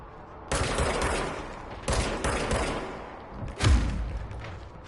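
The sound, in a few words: gunfire while shooting in the video game Control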